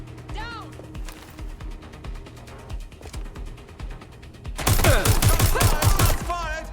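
Gunfire in the Watch Dogs Legion video game: a burst of rapid shots erupts loudly late in the clip, following a stretch of scattered shots and game sounds with a voice talking.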